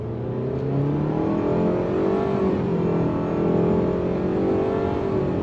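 A 2022 Mitsubishi Outlander Special Edition SUV pulls away under light throttle, its engine droning steadily with simulated gear steps, a continuous, fairly loud cabin hum rising and easing over several seconds, with no one talking.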